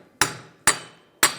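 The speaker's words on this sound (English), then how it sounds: "You can try and use a hammer right here, as long as you're hitting it flat." A hammer strikes the rear axle of a 2003-2011 Honda Element during a wheel hub replacement, three sharp metallic blows evenly spaced and loud and close, with no talk.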